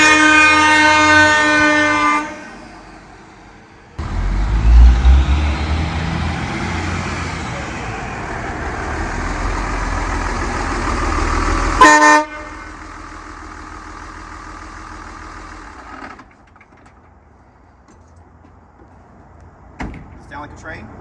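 A MotoHorn train horn installed on a Cummins truck blasts loud, multi-tone chords at the start and again near the twelve-second mark. Between the blasts come a door thud, a rumbling engine and people talking nearby.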